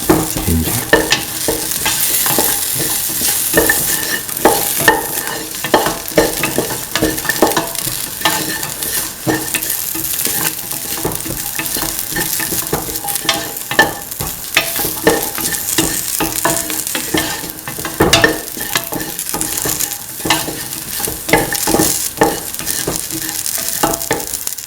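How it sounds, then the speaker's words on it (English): Shallots, onion, garlic and ginger sauté in a hot pan for a vegetarian potato, soy chunk and coconut milk rice dish, giving a continuous close sizzle broken by frequent scraping stirs, with no talking. "Sauteing."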